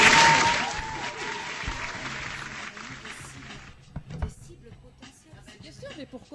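A studio audience at a French radio show bursts into dense applause that fades over several seconds, leaving scattered claps and soft voices in a quieter room.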